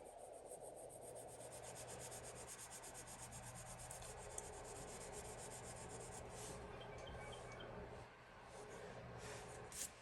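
Colored pencil rubbing steadily across paper while coloring an Easter basket and baby ducks, a continuous close, soft scratchy shading sound with small pauses.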